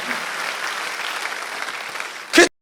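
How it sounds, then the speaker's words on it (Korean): Steady applause from a congregation during a Sunday church service, evenly sustained, ending in a brief louder burst before cutting to silence. "박수 하세요."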